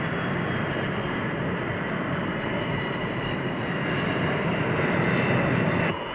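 Jet fighter landing on an aircraft carrier at full engine power, a loud, continuous broadband jet roar that holds steady throughout and drops off slightly at the very end.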